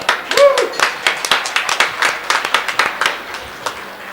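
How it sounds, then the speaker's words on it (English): A small audience at a science communication workshop claps, a scattered run of distinct hand claps that thins out toward the end, with a brief voice cheering near the start. "applause for everyone"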